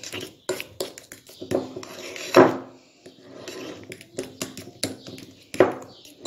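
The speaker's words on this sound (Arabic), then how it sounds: "هنخلطهم كلهم بقلب بعض" Garlic sauce (toum) ingredients being mixed together in a bowl, giving irregular scraping and clinking taps of a utensil against the dish, with a couple of louder knocks, close and without talk.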